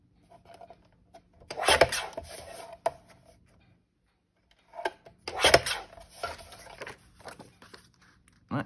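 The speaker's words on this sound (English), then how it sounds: "So trim those off." Cardstock is trimmed on a paper trimmer in two short bursts of rasping, sliding blade strokes with small clicks, close and fairly quiet, separated by a pause of near silence.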